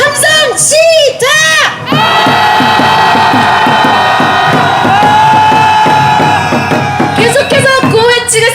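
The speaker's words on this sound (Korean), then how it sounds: "분노를 담아 함성 질러보겠습니다. 함성 시작!" Crowd of protesters on an impeachment march past the presidential office in Seoul shouting together, loud sustained roaring with rhythmic whoops and cheers, close and dense throughout.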